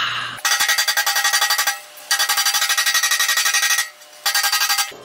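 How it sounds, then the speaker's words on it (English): Rapid, bright metallic tapping from a bouncing hammer on the sheet metal gas tank of a rotten 1956 oval VW Beetle, coming in three quick rattling bursts with short pauses between. "You just kind of let the hammer bounce off of it."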